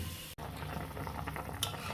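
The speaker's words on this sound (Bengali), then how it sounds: "তরকারিতে আমার বলক এসেছে" Curry for rohu fish with bottle gourd, pumpkin and lentil dumplings comes to a boil in a covered pan, giving a steady bubbling simmer throughout with a brief dropout and a faint clink near the end.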